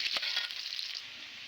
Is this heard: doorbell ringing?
no